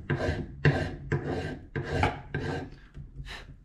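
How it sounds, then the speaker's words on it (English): Hand filing on a 1951 Chevrolet steering wheel, six steady rasping strokes back and forth at a slow, even pace, close and fairly loud with no talking. "I'm gonna get to that with a bit of probably hand filing it"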